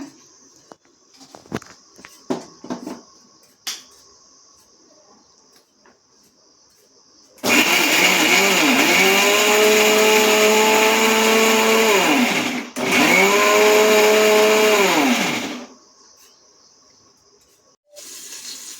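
A mixer grinder whirs loudly in two long bursts, grinding masala into a coarse paste for pudina bath, with a brief stop between runs and quiet kitchen clatter before and after.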